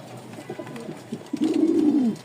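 A pair of Rajshahi Giribaz pigeons coo in courtship, a few soft throaty notes building into a longer, louder rolling coo close by.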